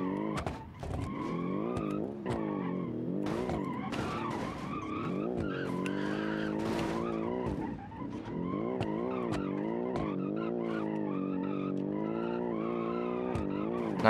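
A car in the BeamNG driving game skids with a flat and a bent tire, its tires squealing and scrubbing almost continuously and loudly over a steady engine drone, with a few sharp knocks mixed in.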